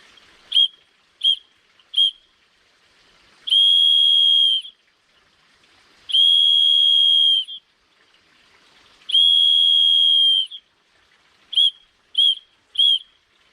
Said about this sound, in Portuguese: apitando, utilizando o código Morse, que nesse caso aqui, o SOS